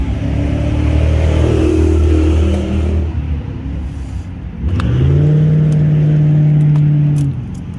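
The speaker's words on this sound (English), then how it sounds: "we got a bunch of drag races out here" Cars at a drag strip rev and accelerate nearby, the loud engine roar swelling, easing off around the middle, then surging again in a sustained rising drone.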